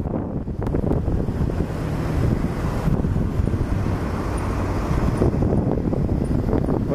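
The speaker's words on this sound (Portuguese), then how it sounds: "Olha, cara, o vento." Strong, steady wind buffets the microphone at Guarulhos airport, a dense continuous roar that stays loud for the whole stretch with no voices.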